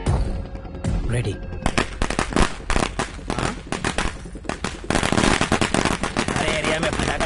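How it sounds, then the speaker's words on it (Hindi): Rapid crackling bursts of firecrackers popping in dense, irregular volleys, loud and continuous, with voices faintly underneath. "अरे एरिया में पटाखा कौन फोड़ रहे रे?"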